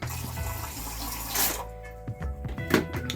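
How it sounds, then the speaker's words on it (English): Water is poured into a cup at close range, a short gushing splash followed by a few lighter trickles and drips, with runoff water from a potted cannabis plant. "Let's pour it into this cup."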